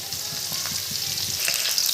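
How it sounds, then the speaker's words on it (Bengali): Garlic frying in oil until browned, a close steady sizzle with faint stirring scrapes, no voices. "এখন রসুনটা বাদামি কালার হওয়া পর্যন্ত রসুনটা ভাজতে হবে আমাদের"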